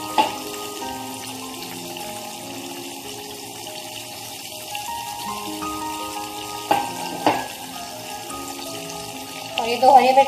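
Chicken karahi with tomatoes and spices frying over a high flame, giving a steady close sizzle with occasional stirring clatters and a louder burst near the end, over a faint tonal background.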